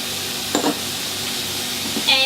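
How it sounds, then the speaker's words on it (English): Sweet potatoes and beans stir frying in a pan with lemon juice and maple syrup, a soft continuous sizzle with a few scraping stirs. "we will stir fry it again for around 2 more minutes"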